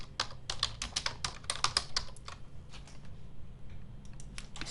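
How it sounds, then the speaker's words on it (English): Fingers type a title on a computer keyboard in a quick run of close, crisp key clicks that thins out toward the end, with no talking. "And you can type in the title."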